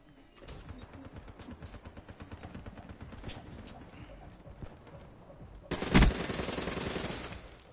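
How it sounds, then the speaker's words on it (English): Rapid bursts of machine-gun fire with a thermal sight in an online shooter, a steady rattling stream that swells into a louder, denser volley near the end. "I put thermal on my machine gun"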